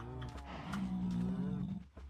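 A cow in the Minecraft video game gives one long, low moo of about a second, quiet against a faint game background with no speech.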